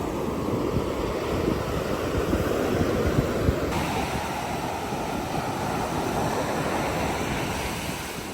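Steady roar of sea waves and surf at a campsite in Ibaraki, Japan, continuous and fairly loud, with wind buffeting the microphone throughout.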